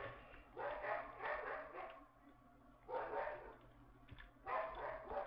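A Minecraft dog barks in repeated bursts roughly a second apart, fairly close and moderately loud, over a low steady background hum.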